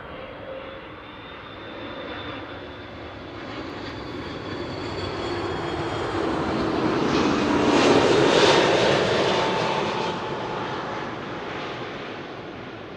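A 19-year-old Airbus A330-200 airliner at Amsterdam Schiphol Airport rumbles past with a broad engine roar that swells to a peak and slowly fades, heard alone without voices.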